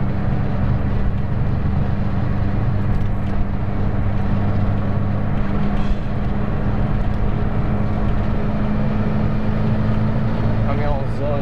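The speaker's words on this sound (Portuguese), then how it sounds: "Caminhãozão de combustível, ó," A large fuel tanker truck with three rear axles rumbles past on a road, giving a continuous loud, low drone of engine and tire noise with a steady hum.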